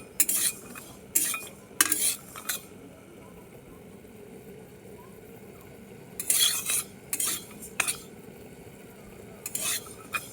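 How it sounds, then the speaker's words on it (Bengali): Fenugreek, cashew and raw banana being stirred in a wok on a gas stove, heard as short, sharp scraping bursts that come in clusters with quiet gaps between them over a low background hum. "ওই 2 থেকে 2 মিনিটের মতো নাড়াচাড়া করলেই হয়ে যায় গ্যাসে কড়াইতে দিয়ে"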